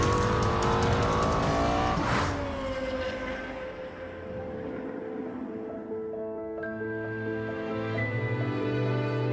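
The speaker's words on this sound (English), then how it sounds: "Aggressive, loud, agile. Highest revving V10 engine in a production car." A Lexus LFA V10 production car revs hard and roars past at speed, a loud engine howl with rising and falling pitch, a sharp sweep near two seconds, then continued revving and gear changes with no talk.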